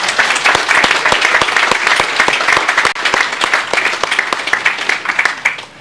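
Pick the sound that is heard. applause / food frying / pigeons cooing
applause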